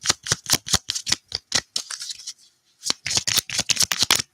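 Tarot cards riffled and shuffled in quick bursts of crisp flutters, a short pause midway, then more rapid shuffling close by with no talk.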